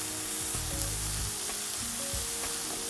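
Ginger juice, sugar and basil leaves stirred into a hot pan for mushroom fried rice, with a soft continuous sizzle and scraping stir strokes throughout, close and alone.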